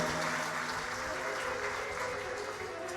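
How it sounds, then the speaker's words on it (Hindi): Loud, sustained clapping from a large crowd at a Shiv Mahapuran religious discourse in Vadodara, Gujarat, welcoming the deities, a dense, even roar of hands that holds steady throughout. "जोरदार ताली बजाकर ईश्वर जी और गोरा जी का स्वागत करें।"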